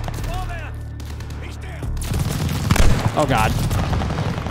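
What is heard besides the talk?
gunfire from the video game Call of Duty Vanguard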